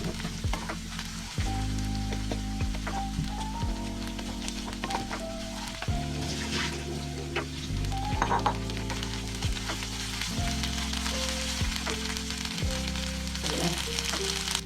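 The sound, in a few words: stirring onions frying in a pan for veg pulao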